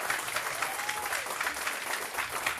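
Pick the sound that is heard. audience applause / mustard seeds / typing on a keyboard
audience applause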